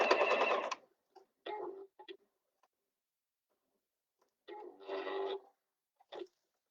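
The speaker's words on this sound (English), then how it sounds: "I go crazy about sewing machines all the time." A sewing machine stitches a handbag lining in short motor bursts, with a long run at the start, brief stitches after it and another longer run near the end. Quiet pauses separate the bursts.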